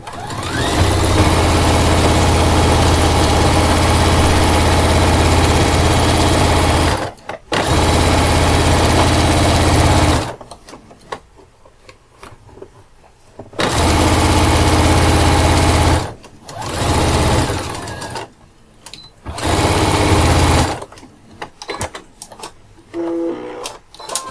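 A sewing machine stitches a backpack seam about 1 cm from the fabric edge, running loud and steady in several bursts with short pauses between them and no talking.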